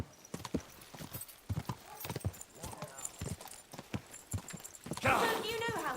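Horse hooves in the video game Kingdom Come: Deliverance II clip-clop in a quick, uneven rhythm, joined near the end by a brief whinny.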